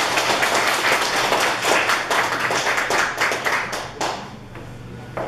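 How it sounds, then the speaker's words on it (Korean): Audience applause at a Seoul National University alumni association general meeting in Georgia, a loud burst of many hands clapping close by that gradually thins and fades toward the end. "성공하기 위해서 박수 좀 바랍니다."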